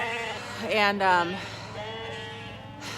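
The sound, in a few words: sheep bleating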